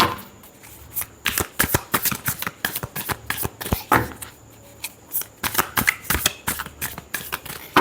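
Tarot cards are shuffled by hand in a steady run of crisp, rapid riffles and flicks, close and fairly loud, with no talking over them.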